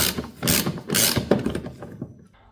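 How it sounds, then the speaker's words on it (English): Socket ratchet tightening a 13 mm nut on a Mercedes W123 wiper mechanism and window cowl, giving a few bursts of close metallic clicking that fade out at the end. "Tighten that up with a 13."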